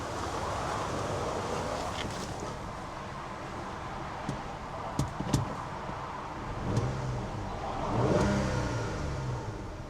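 A warm 2001 Kia Magentis 2.5 V6 SE engine revs over a steady idle, with a few sharp blips and a longer swelling rev near the end, heard close up with no talk.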